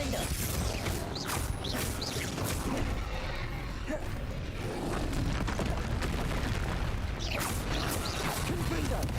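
Blasting-spell explosions and combat effects erupt repeatedly in a Hogwarts Legacy battle, with loud booming bursts layered over dense mechanical clatter while a voice calls out over the action.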